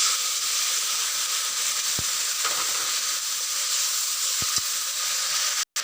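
Spice paste goes into a pan of fried onions, where it hisses and sizzles steadily at close range, with a few sharp clinks of a utensil against the pan.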